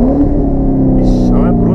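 A heavy Corvette engine revs loudly close up, a deep rising roar that climbs in pitch. Someone talks over it partway through.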